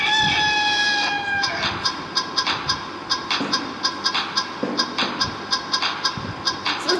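A ringtone: clucking, rooster-like calls over a steady, rhythmic electronic beat of repeated sharp hits, loud and close, with no talking.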